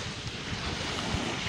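Waves of the sea at Anapa beach give a steady, close surf wash with wind noise over the microphone, continuous and fairly loud, with no voices.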